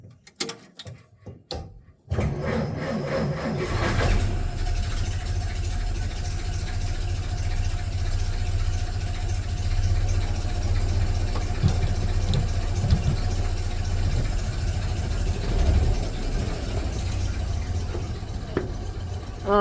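A 1931 Plymouth engine turns over in a brief cranking burst, then catches and settles into a steady, fairly quiet idle with an even mechanical chug that runs on alone.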